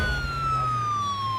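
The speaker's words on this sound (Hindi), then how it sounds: "एम्बुलेंस आ गई।" A loud, near emergency siren wails in a steady descending tone as an ambulance arrives, with a low engine rumble beneath.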